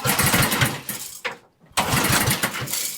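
A Toro Power Shift 828 snow blower engine with a spark fault sputters and roars as it tries to start, cutting out briefly before catching again with a rough, loud churn.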